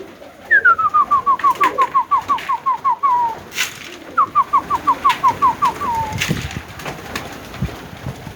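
Pigeons in a Budapest-breed loft give two clear runs of rapid, rhythmic calls, each a string of about a dozen evenly spaced pulses that slide downward, loud and close, with faint background noise between the bursts.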